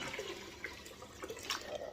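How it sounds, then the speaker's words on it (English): Water is poured out of a 12 lb Lortone rock tumbler barrel, giving a faint, uneven splashing and trickling with small gurgles over about two seconds. "I'm going to dump a little water out"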